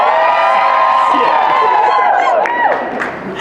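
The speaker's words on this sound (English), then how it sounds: "please raise your hands and cheer" Wedding guests at a ceremony cheer and whoop together, a loud crowd roar with rising voices that swells and then fades slightly toward the end.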